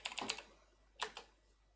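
A user password typed on a computer keyboard: a quick run of four or five soft key clicks, then a pause and two more keystrokes, close and quiet with no talking.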